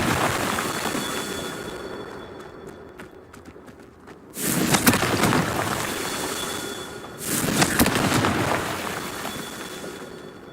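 Two booming Confringo spell blasts in a Harry Potter video game, each a sudden loud burst with a rumbling tail, a few seconds apart over a quieter hiss.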